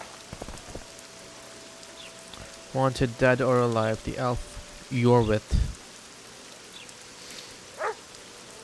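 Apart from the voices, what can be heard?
rain in video game The Witcher 2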